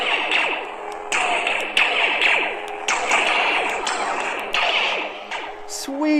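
An Artsabers Ezra Bridger neopixel lightsaber plays repeated blast deflect effects: a series of sharp zapping bursts, roughly six in quick succession over a steady humming drone, loud and close, with no talking.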